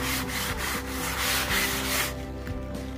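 Paper being scrubbed to make rusty collage paper, a steady close rasping rub in rhythmic back-and-forth strokes that carries on without pause, with no voices.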